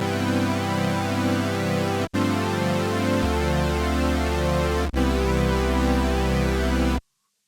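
A sustained Roland Juno-106 synthesizer chord with a swirling, shimmering chorus effect rotating left to right, changing notes twice with brief gaps, then stopping abruptly.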